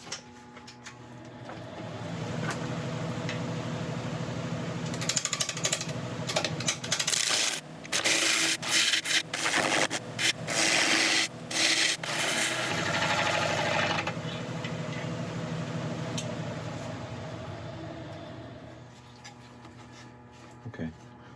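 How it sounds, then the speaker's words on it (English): Metal picks scraping bits of bark off a wood burl, a run of rapid irregular scratching and clicking strokes in the middle of the clip over a steady background hum. "we're going to get in some picks and start taking out all of these little bits of bark"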